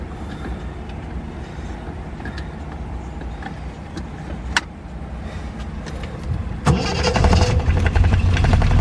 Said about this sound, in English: Car starts right up every time.